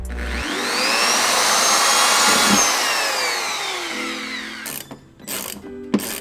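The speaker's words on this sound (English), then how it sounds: "so I had to drill some new holes" A power drill whines steadily for several seconds, its pitch sweeping as it bites into a BMW E90 car bumper, then stops, leaving short bursts of clicking and rattling.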